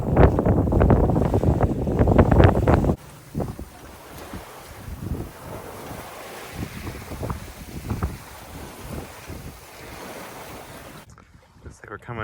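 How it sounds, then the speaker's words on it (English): Strong wind at sea buffets the microphone aboard a sailboat, a loud roaring gust at first, then a steadier rushing blow with water and hull noise, easing briefly near the end. "I see way more wind than the forecast said."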